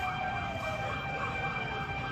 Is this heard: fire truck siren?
yes